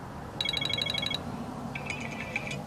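A trilling electronic iPhone 7 ringtone pulses rapidly twice, first a higher burst then a lower one, bright and clear over a faint background hum.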